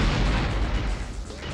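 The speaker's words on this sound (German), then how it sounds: "Explosionen sind schon was Schönes." A dynamite blast in the 1998 PS1 action game Apocalypse, a dense, loud low rumble that rolls on for over a second with heavy bass and no speech over it.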